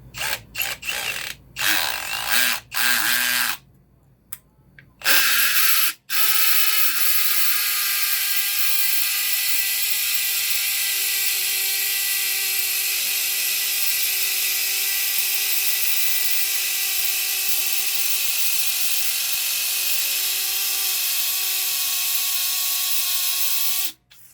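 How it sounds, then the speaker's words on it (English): Drill boring through a concrete floor to anchor an ATM, starting in short stop-and-go bursts, then running as one long, loud, continuous high-pitched grind close by. "I'm ready to drill through the concrete"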